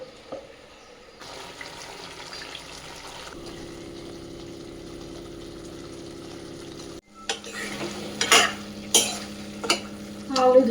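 Pumpkin and potatoes fry in a pan with a little sugar and a splash of water, giving a soft continuous sizzle. Louder scraping stirs from a spatula follow near the end, with no talking.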